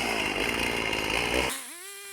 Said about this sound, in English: basically I'm just going to do all this by chainsaw, shaping out my stock blank